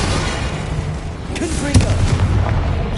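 A Bombarda explosion spell goes off in Hogwarts Legacy, a loud, booming blast with a sharp crack that rises out of rumbling combat noise partway through.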